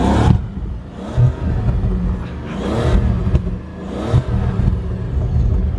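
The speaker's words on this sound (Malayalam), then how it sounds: "ഇനി ഞാൻ ഇതിൻ്റെ എക്സോസ്റ്റിനോട്ടൊന്ന് കേൾപ്പിക്കാവേ." Exhaust note of a Bentley Flying Spur, a deep engine rumble rising in several repeated revs, each swelling and falling back, heard close and fairly loud.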